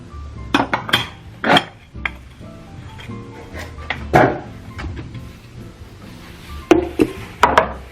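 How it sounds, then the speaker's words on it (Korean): Ceramic bowls and dishes are handled and put away in a home kitchen, with close clinks and knocks of crockery, clattering in bursts between quieter pauses, and no one speaking. "이 그릇들을 빨리 정리하고"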